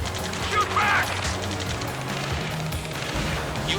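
Gunfire rattles through an Ace Combat 7 combat mission: dense, continuous crackling shots and explosions layered over engine roar and game sound, loud and busy throughout with no pause.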